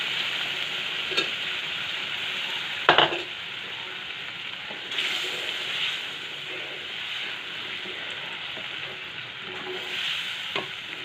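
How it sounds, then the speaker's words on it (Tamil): Rangoon kesari cooking with filtered jaggery syrup bubbles and hisses steadily in a pan, broken by a few spoon knocks and scrapes against the metal as it is stirred. "அது வரைக்கும் நம்ம கையை விடாத கிண்டிக்கிட்டே இருக்கலாம்"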